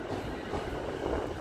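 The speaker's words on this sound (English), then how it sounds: "I think that's a Saikyo line train stopping now." A Saikyo Line train on the line linking Tokyo to Saitama pulls into JR Shibuya station, its steady rumble and rail clatter filling the scene continuously and fairly near, with no voices.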